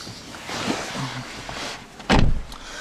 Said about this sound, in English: Doors sound really nice and solid when they shut.